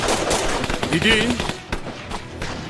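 Machine gun fire in a tense armed standoff, rapid sharp bursts crackling loud and close while a voice shouts over the shooting.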